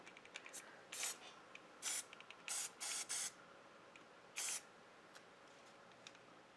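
Short bursts of aerosol spray hiss, about seven quick sprays at irregular intervals, close and fairly quiet against a faint background.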